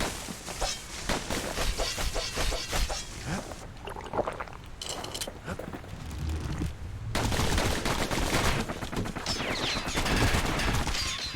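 Pincushion creatures shooting back in the video game Bastion, a sustained barrage of rapid projectile fire with brief lulls, swelling louder and denser toward the end.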